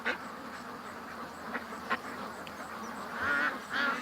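Ducks quacking outdoors among a group that includes a notably large duck, with scattered honks and a couple of louder quacks near the end over steady background noise.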